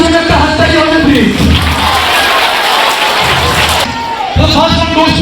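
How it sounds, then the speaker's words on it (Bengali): Audience applause at a Higher Secondary School session, a dense wash of clapping and cheering that swells and holds for several seconds, with voices mixed in and talk returning near the end. "Can we give a big hand to Agni, please?"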